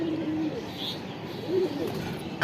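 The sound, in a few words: Jet Spring pigeon cooing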